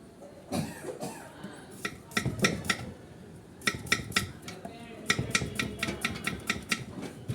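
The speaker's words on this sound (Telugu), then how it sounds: "ఇవి ఉల్లిపాయలండి, కట్ చేసుకుంటున్నాను కూరలోకి కొంచెం" Onions being cut with a knife on a masala cart, heard as bursts of rapid, sharp chopping taps separated by pauses, close and fairly loud, with no talk.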